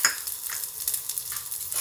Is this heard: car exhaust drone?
no